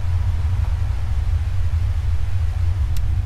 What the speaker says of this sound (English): Telly's on. White noise.